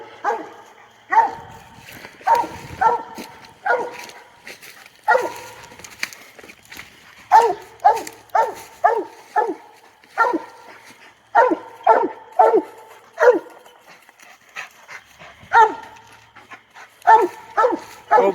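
A hound dog bays and barks at a raccoon it has treed during a night hunt, loud, near and repeated in quick bursts and clusters, with short pauses between volleys.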